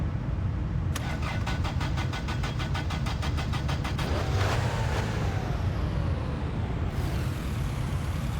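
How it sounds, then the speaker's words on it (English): Car engine starting in the video game My Winter Car: a loud, rapid starter crank that catches and revs before settling into a steady idle rumble, heard alone without talk. "Get the car started."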